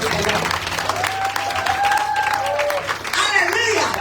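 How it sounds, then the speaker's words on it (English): A church congregation at a Sunday evening retreat in Margao claps along steadily, dense applause-like clapping mixed with voices and music, loud and continuous throughout. "Come on, clap your hands to the Lord."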